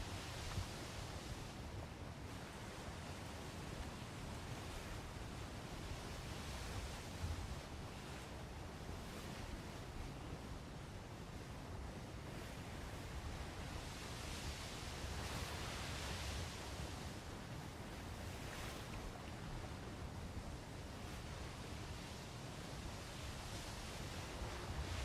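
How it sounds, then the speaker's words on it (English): Steady outdoor wind rushes and buffets against the microphone for the full stretch, a dense roaring wash with surging gusts and a surf-like swell, loud and continuous with no voices. "Wind"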